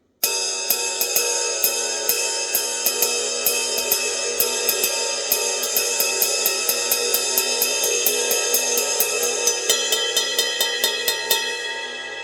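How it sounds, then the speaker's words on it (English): A Paiste 2002 20-inch ride cymbal struck in a steady, even pattern of bright pings over a shimmering, sustained wash of overtones that builds and rings on, heard alone without any talk. "This is kind of my benchmark cymbal, really, my Paiste 2002 20-inch ride."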